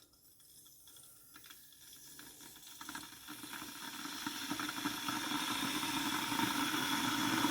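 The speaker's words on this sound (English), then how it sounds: "And the kettle which you need to fill up here" Electric kettle heating water in a hotel room, a soft hiss and rumble that gradually builds in loudness as the water warms, with faint ticking and crackling, close and steady with no talk.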